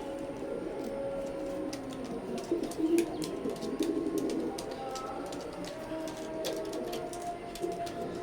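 Teddy pigeons, an imported flying breed, cooing softly in a loft, a low steady murmur of calls with faint background clatter and no clear talk.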